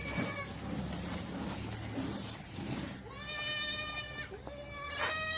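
Goats on a goat farm in Pakistan bleat in a barn, several clear nasal cries in the later half over a murky background of movement and noise, moderately close.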